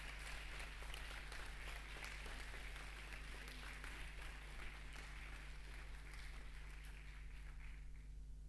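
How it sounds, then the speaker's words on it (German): An audience claps steadily through a hall after a group is called up to present at a youth hackathon final showcase, the applause fairly faint and distant with no talk over it. "Einen großen Applaus."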